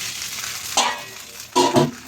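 Fish wrapped in taro-stem leaves frying in a pan on the stove, giving two short bursts of sizzle as it is turned and stirred, over a low steady background hiss.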